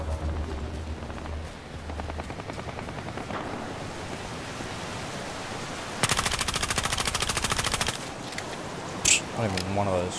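Gunfire in the Battlefield Heroes video game comes as rapid machine-gun bursts over a noisy background. One dense burst rattles for about two seconds, then single sharp shots follow, with a player talking underneath.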